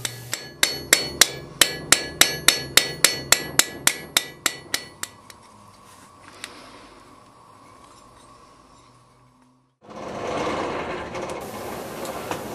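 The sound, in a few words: hammering a rivet head on a forged spring latch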